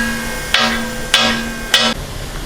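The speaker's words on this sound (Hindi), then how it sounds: "सबसे पहले काटेंगे अपना टमाटर। टमाटर आप रफली काट लें।" A knife roughly chops tomatoes on a cutting board for a tawa fry kaleji masala dish, three sharp, evenly spaced chopping knocks about half a second apart, close and clear against a steady low hum.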